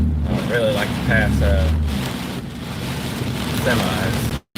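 Strong storm wind of about 80 miles an hour roars as steady broadband rumble around a vehicle on a storm chase drive, loud and continuous, with people talking over it.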